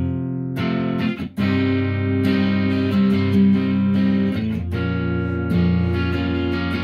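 Electric guitar with an overdriven, effects-laden tone plays the chord progression from a song, sustained chords changing every second or so with a brief pause near the start, loud and close with no talking.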